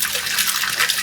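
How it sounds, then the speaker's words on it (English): Water pours in a steady, hissing stream into a large cold brew vat, a close, continuous splash with no voices. "then you're gonna want to start pouring the other water in."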